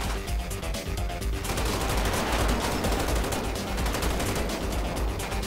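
Sustained automatic gunfire crackles in a GTA 5 police SWAT shootout, with rapid overlapping shots forming a loud, unbroken barrage throughout and no talking on top.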